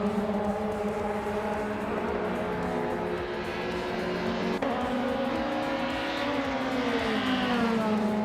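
Race car engine of a 1999 Opel Vectra, a steady loud drone that holds a sustained pitch, then shifts and climbs after a sudden change partway through, continuous throughout with no pauses.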